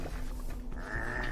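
Sheep bleating in the Minecraft Dungeons video game, a brief wavering bleat rising over steady game music and ambient background sound.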